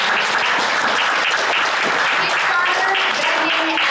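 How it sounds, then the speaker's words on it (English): Sustained, dense applause from a large convention audience at an opening ceremony, loud and continuous throughout, with scattered cheers and voices mixed into the clapping. "Can we just give this guy a huge round of applause"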